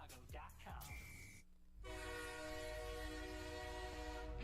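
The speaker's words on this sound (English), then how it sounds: "Another train!" A train rolls past with clattering wheel noise before a sustained, multi-tone horn blast sounds loudly and steadily over the rumble of the passing cars.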